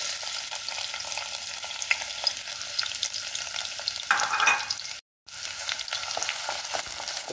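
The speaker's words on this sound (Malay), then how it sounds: "Tumis bawang kita ni" Ground onions sauté in about a spoonful of oil for a simple fish curry, giving a steady, dense sizzle with a faint scrape of stirring. The sizzle cuts out briefly near the end, then resumes.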